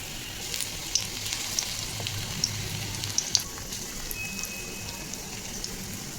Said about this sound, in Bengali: এবার আমি এটাকে গরম তেলে বসিয়ে নেবো, তেলও বেশভাবে গরম করে নিয়েছি।